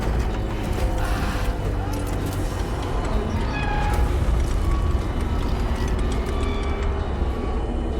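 A cat meows several times in a video game, mixed under a dense, constant bed of rumbling ship or machinery noise. The meows are faint and drawn out and do not stand out sharply from the din.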